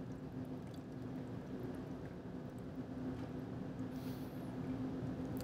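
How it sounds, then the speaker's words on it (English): Deionized water pours steadily into the outer chamber of an XCell SureLock blot module during a wet protein transfer, a soft continuous splashing rush with a faint hum beneath, lasting throughout with no talk. "we're going to fill up the outer chamber with the deionized water"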